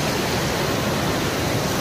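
Water rushing and splashing at Parshuram Kund, a dense, loud, unbroken hiss and roar heard up close with no letup.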